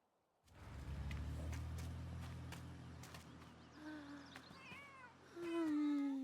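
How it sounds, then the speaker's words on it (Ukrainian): A cat meows several times in a video game, the bright, rising calls arriving near the end over a low engine-like hum that starts the scene. "Подивіться, хто в нас тут. Тут котик."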